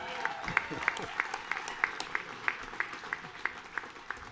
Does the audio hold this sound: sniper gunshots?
no